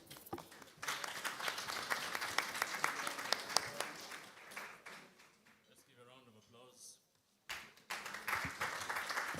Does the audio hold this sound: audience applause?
yes